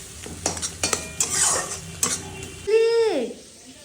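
Fish cooking in a pan, with a spatula scraping and clinking against the metal over a steady sizzle, then a short rising-and-falling tonal squeal near the end.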